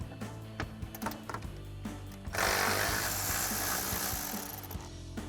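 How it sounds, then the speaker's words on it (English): A powered socket driver whirs in sharp bursts close by, then a longer continuous ratcheting spin as a bolt is backed out of a vehicle fender with a 10mm socket. "we have a bolt going into the fender that we can take a 10mm socket to remove"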